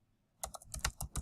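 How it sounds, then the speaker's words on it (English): Several quick keystrokes tap on a computer keyboard, about seven crisp clicks in a short uneven burst, close and fairly quiet with no talking. "you type the title of the author, Booker T."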